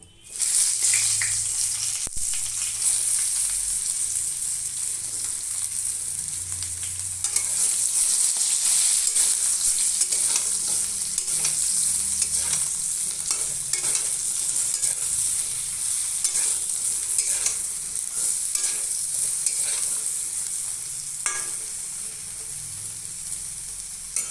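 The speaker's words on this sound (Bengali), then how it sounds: "এবার ওই তেলের মধ্যে বেগুনটা ভেজে নেব।" Eggplant slices fry in oil with a loud, bright, continuous sizzle that runs unbroken for over twenty seconds, with occasional crackles and stirring scrapes. No voices are heard.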